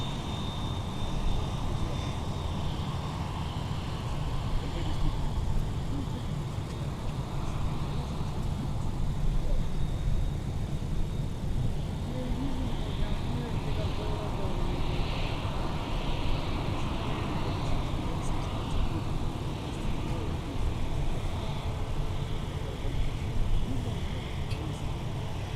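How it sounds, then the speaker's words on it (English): An Airbus A350-900 airliner taxiing at MSP airport produces a broad, steady jet engine roar and rumble lasting throughout, with faint radio voices under the noise. "A350-900, presented in part by DG Pilot. It's an impressive aircraft, and we're going to get to see that taxi right on by"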